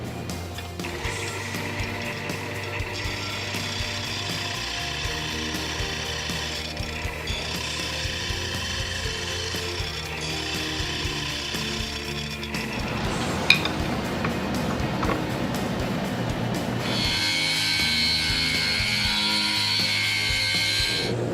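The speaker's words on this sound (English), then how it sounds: "I'm going to clean that up on my sander before I cut the next piece" A sander smoothing the freshly cut edge of a metal piece, a steady mechanical whir with grinding texture that shifts pitch partway through and grows harsher near the end.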